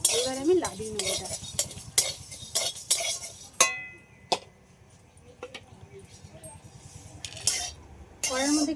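Spice masala being stirred in a pan for a winter-vegetable khichuri, with scraping, clinking spoon strokes in an irregular run of near, fairly loud bursts and quieter gaps between them.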